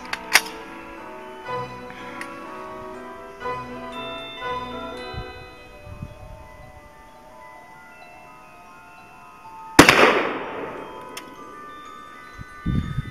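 Rifle fire of 7.62x39 steel-jacketed FMJ Chinese surplus rounds into a cast iron engine block: a sharp crack near the start and a loud blast later, both trailed by long metallic ringing tones that fade slowly.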